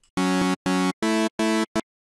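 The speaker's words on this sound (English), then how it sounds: "A 7 note has this typical sound which sounds like this." Five bright, buzzy synth stabs in a deep house bass setting, each playing a stacked seventh chord. The first four are even and last about a third of a second each, and the fifth is a short clipped hit. All are loud with silent gaps between.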